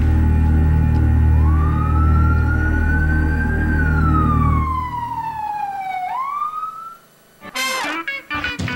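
A loud wailing siren sweeps up and down in pitch over a rumbling engine, then fades, followed by a few sharp bursts of sound.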